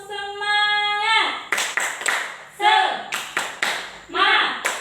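A fourth-grade class chants a short call, then claps out a sharp rhythmic cheer in quick bursts of hand claps, with voices joining in between the beats.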